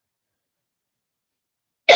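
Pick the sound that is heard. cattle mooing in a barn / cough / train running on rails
cough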